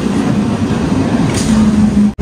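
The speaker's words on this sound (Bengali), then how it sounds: "ট্রেন ঢুকে গেছে" A train pulls into a station with a steady, continuous rumble and low hum that hold throughout, then cut out briefly just before the end.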